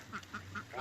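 Muscovy duck, one bird of a backyard flock, gives four short, evenly spaced quacks at close range, each a brief nasal burst with low background noise between.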